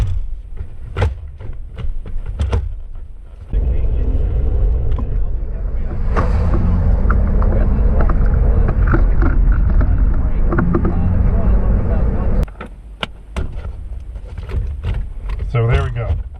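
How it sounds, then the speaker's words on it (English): A Jeep Liberty KK with an NSG-370 six-speed manual and a modified B&M shifter pulls away on a test drive. Steady engine and road rumble fills the middle stretch, with a voice and clicks before and after. "So I think we're ready for a test drive."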